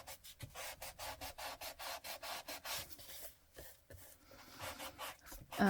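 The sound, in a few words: sanding the edge of a glossy book image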